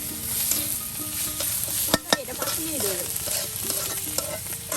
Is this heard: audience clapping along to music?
no